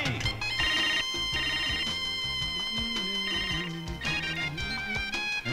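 A phone ringtone plays a bright, repeating electronic melody, loud and close, with no one speaking.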